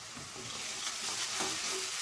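Spice masala frying in oil in a pan for a Bengali doi pabda fish dish, with a steady low sizzle and soft stirring scrapes. The sound is continuous and fairly quiet, with no talking.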